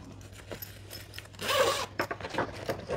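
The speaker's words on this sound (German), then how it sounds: "Ja, die Reißverschlüsse gingen ja auch ganz gut, ne?" A zipper being drawn along a denim canvas messenger bag, a close, scratchy rasp lasting about a second, followed by lighter handling rustles of the fabric.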